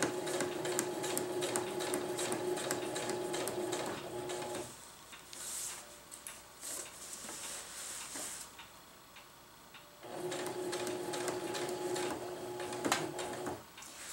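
A sewing machine stitches tarp fabric in rapid, even ticking bursts, stopping for a few seconds midway before resuming, close and moderately quiet.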